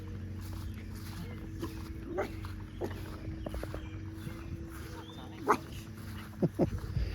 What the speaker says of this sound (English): Dogs are gonna start barking.